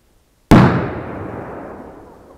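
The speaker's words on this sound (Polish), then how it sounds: "na pewno jest to mocniejsza petarda, bo było czuć falę uderzeniową" A powerful firecracker goes off with a single sharp, very loud blast after brief silence, followed by a long rumbling decay as the shock wave rolls away outdoors.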